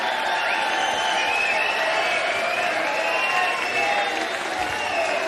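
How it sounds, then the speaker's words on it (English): A darts crowd at the Unibet Darts Masters final applauds and cheers a player, dense sustained clapping and whoops filling a large arena, loud and continuous without a break. "you can hear the reception you've got from this crowd"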